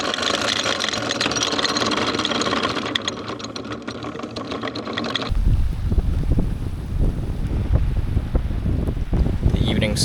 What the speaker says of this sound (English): Squall is hitting now